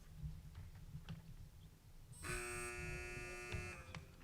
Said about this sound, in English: Teams, wait for the buzzer if you'd like to answer.